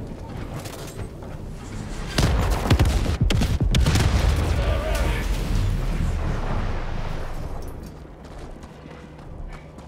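A grenade blows up in Helldivers 2, a heavy booming burst with crackling debris that swells loudly after a couple of seconds and then rumbles away gradually.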